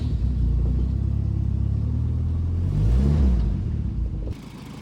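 Volvo 240 wagon engine cranks and settles into a steady, loud low rumble at close range, rising briefly in a rev before the sound drops off near the end.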